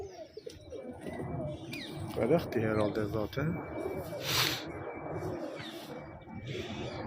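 Pigeons set outside in warm sunshine coo softly and intermittently, with nearby bird calls and a brief hiss, all under ongoing close conversation.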